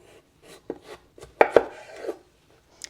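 A knife chops through scrubbed russet potatoes on a cutting board in a few sparse, crisp thunks, with two sharper cuts close together, recorded near and quiet.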